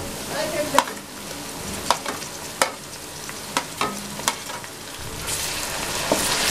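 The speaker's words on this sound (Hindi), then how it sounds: "दो चम्मच अदरक लहसुन पीसा हुआ डालेंगे।" Ground ginger-garlic paste sizzling with onions in a hot pan under a steady frying hiss, with a few sharp utensil scrapes and taps from stirring, close by and without speech.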